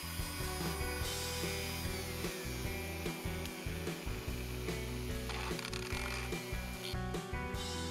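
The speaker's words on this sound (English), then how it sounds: "sandpaper in a power drill to clean the pins" A power drill spinning sandpaper to clean the pins of a Maytronics Dolphin M500 pool robot, a close, continuous whirring motor with scraping and rattling contact noise.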